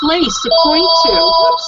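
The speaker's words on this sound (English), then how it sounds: "sorry about the phone." A telephone rings with a sustained electronic trill, loud and close, sounding beneath a person who keeps talking over it.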